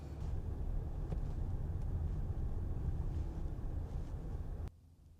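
A car drives and pulls up at a Natural Grocers grocery store, heard from inside as a steady low road and engine rumble that drops off abruptly near the end when it stops.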